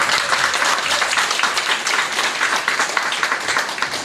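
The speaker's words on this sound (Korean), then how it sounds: "우리 박수로 환영해 주시겠습니다" A hall audience gives steady, even applause to welcome a pastor at a Korean children's evangelism association anniversary event. The clapping is continuous and moderately loud throughout.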